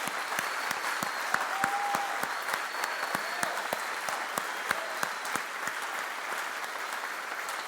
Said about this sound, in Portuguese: hoje eu queria que você desse um aplauso gigantesco para você, para essa igreja maravilhosa